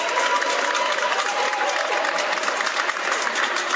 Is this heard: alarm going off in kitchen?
no